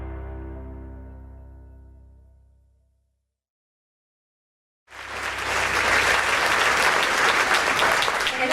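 A fading low tone trails off into a couple of seconds of silence before a luncheon audience at a Latino community event breaks into loud, steady, sustained applause from many hands that fills the rest of the stretch.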